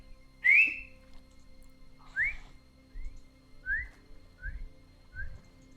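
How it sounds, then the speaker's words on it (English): A loud finger whistle echoing in a cave: about six sharp, rising whistle chirps spaced through the clip, the first strongest and the rest slightly softer, heard alone without talk. "know how to do the like finger whistle thing? It's real loud."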